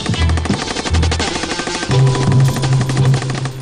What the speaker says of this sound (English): 20 rounds, 20 rounds of tracer from a machine gun, and half of Wiltshire is on fire.